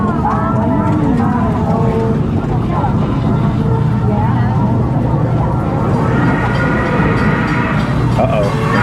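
A train rumbles past close to an amusement park ride at Dollywood, a loud continuous low roar with clattering and rising tones, over ride noise and people talking.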